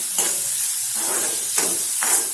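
Finely chopped onion sautés in a hot pan with a steady close sizzle, while three or four scraping stir strokes of a spatula break through at even intervals.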